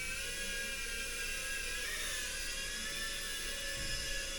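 Holy Stone HS420 toy drone in flight, its small propellers giving a steady high-pitched whine and whir with a slight pitch wobble, continuous and fairly close, with no talking.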